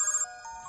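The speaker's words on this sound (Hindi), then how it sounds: "फोन बज रहा है, उसी का होगा।" A mobile phone ringtone plays in a repeating electronic melody, fairly soft and steady, with no voices.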